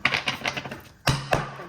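Tarot cards are shuffled close up in quick, crisp tapping bursts, a rapid flurry followed by a pause and two sharper snaps.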